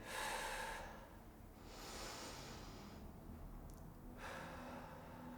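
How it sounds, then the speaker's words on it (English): Slow, deep breaths drawn in and let out during a cool-down after a full-body exercise session. Several soft, close inhales and exhales follow an even rhythm with no talking. "we'll just begin by taking a few deep breaths to help us slow down the heart rate"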